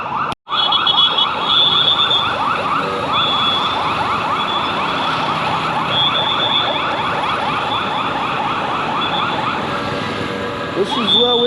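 Sirens of an approaching VIP convoy on a city road in Kampala, a loud, continuous wailing and yelping siren sweeping up and down, steady throughout with a brief dropout near the start.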